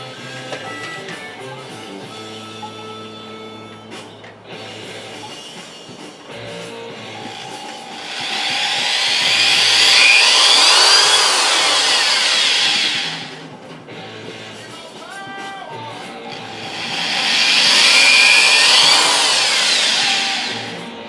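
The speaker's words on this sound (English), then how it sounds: "And now I have to take this drill. There you go, the right direction. And put these holes in for the screws to go through." A power drill bores screw holes through flower props in two sustained, loud whining bursts separated by a short pause, with quieter workshop handling noises before and between them.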